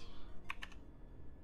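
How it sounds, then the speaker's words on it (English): A few computer keyboard keys pressed in quick succession while modeling in Blender, crisp near clicks over a quiet room hum, no talking. "press the number 1 in my keyboard"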